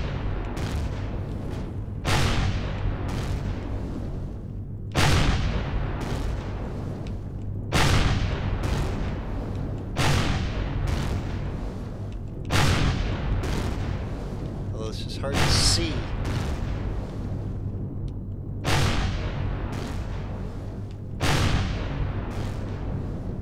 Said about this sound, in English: I can still shoot him on the other side of the barrier